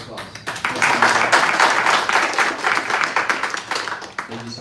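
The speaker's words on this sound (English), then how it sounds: "Round of applause." A small audience at a Sunday talk breaks into a round of applause, loud and close, swelling and then thinning into scattered claps, with a voice speaking over the start and end.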